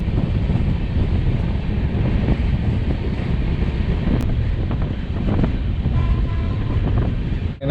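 Aboard the Thirukkural Express in a 3AC coach, the train runs fast with a steady broadband roar of wheels and wind, a brief clank and a faint tone near the end, no talking.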